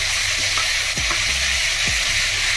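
Ginger paste frying in hot oil in a pan while making chilli paneer, a steady loud sizzle and crackle running throughout, with a couple of faint stirring scrapes partway through.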